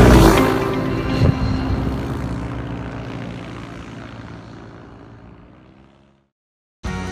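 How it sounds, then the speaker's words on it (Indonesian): A propeller airplane engine drones loudly nearby at an airstrip in Temanggung, Indonesia, then gradually fades away before cutting off briefly and returning. "Jadi hari ini kita pakai pesawat Papa Kilosiratu 52 yang akan diterbangin sama Yoga"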